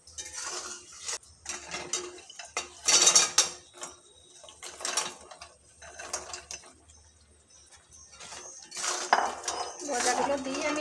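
Gaja pastries are stirred in sugar syrup in a metal pan, making intermittent scraping and clinking of a spatula against the pan. Quiet gaps separate bursts of moderate loudness, with no talk.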